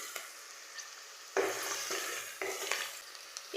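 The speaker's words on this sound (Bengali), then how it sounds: "ভালো করে হালকা নেড়ে চেড়ে ভেজে নেব।" Onion flowers, beans and whole cumin stir-fry in a hot pan. A steady, soft sizzle runs throughout, broken by a few scraping stirs, close but quiet, with no voices.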